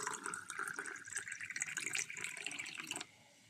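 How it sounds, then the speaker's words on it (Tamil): Amla (gooseberry) juice with lemon poured into a tumbler, a steady liquid stream splashing for about three seconds before stopping abruptly, close and moderately loud with no talking. "இப்போ நம்ம ஒரு டம்ளரில் இந்த ஜூஸை ஊற்றிக்கலாம்."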